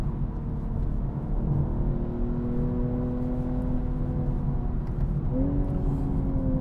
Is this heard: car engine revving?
yes